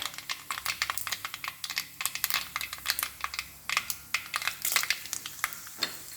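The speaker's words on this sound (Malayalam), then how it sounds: "കടുക് നല്ലോണം പൊട്ടി തുടങ്ങി കേട്ടോ" Rapid, irregular popping and crackling of mustard seeds spattering in hot oil, sharp and close, with no talking.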